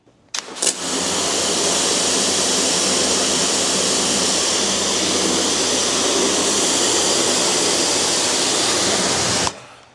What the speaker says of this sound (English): So it rejects a large flow of water much better on the Total Wax side.